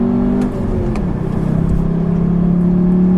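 A 2014 Volkswagen Jetta GLI accelerates hard onto a highway, its engine note rising and droning steadily with a loud, close rumble and whir inside the cabin, no talking.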